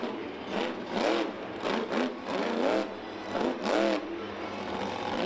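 The Legend monster truck, driven by Adam Anderson at a Monster Jam World Finals freestyle run, revs its engine in about six loud, close bursts that rise and fall over a constant rumbling idle, with no talking.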